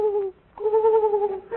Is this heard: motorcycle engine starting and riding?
no